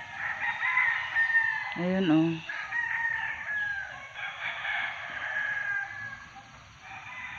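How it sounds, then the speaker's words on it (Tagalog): Chickens on a farm near Mount Banahaw in Quezon Province, with a rooster crowing loudly nearby and hens clucking around it, while a person speaks briefly over the birds. "Dami manok doon, oh."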